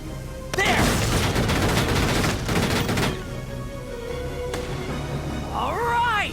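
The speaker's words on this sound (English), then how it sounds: "The enemy's returning fire!" Enemy gunfire in the video game Valkyria Chronicles 4, a loud dense burst of rapid shots and booms that fades into rumbling battle noise, with a game voice speaking near the end.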